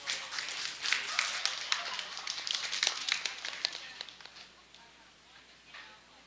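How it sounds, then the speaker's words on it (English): Light applause from a small crowd at a county fair poultry show, brisk clapping that swells briefly and then thins out to a few scattered claps. "Let's give her a round of applause."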